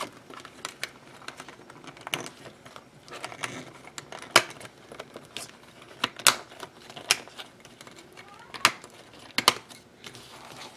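Cutting a piece for a DIY planner disc cover makes a string of sharp, close clicks and snips, irregular and fairly quiet, with no voices.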